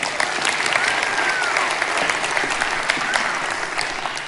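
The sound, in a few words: audience applause for Marina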